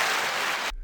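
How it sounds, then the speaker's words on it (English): Applause for Bad Bunny, a brief burst of steady, dense clapping that cuts off abruptly after under a second. "1 second applause to Bad Bunny"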